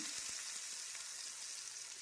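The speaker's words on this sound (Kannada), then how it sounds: "ಎಣ್ಣೆ ಕಾದಿದೆ ಸಾಸಿವೆ ಹಾಕ್ತೇನೆ ಸಾಸಿವೆ ಸಿಡ್ದಾದಮೇಲೆ ಕರಿಬೇವನ್ನ ಹಾಕ್ಕೊಳ್ತೇನೆ" Mustard seeds and ground tomato-mint chutney sizzle in hot oil in a pan, a continuous bright frying hiss dotted with a few soft crackles and pops near the start, with no voices.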